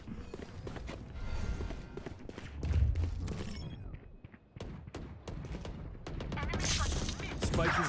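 Rapid gunfire bursts in the Valorant shooter game, sharp repeated shots and clattering impacts in clusters across several seconds, with players talking over the action.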